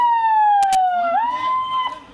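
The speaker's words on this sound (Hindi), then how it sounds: "ये देखिए ये सायरन किस तरीके से बजेगा" A hand-held civil defence air raid siren sounds during an NDRF mock drill, a loud, clear wailing tone that dips slightly, then swoops back up and holds before tailing off, with a couple of brief knocks early on.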